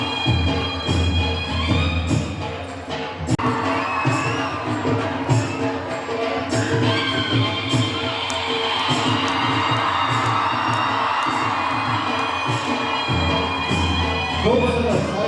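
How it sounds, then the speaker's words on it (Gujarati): A crowd at a felicitation ceremony for educational services breaks into sustained applause and cheering, loud and close, with shouts rising over the clapping and some voices mixed in. "આપણે સૌ જોરદાર તાળીઓથી વધાવી લઈશું."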